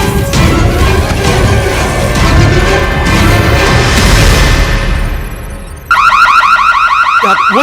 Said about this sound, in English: Perimeter breach alarm.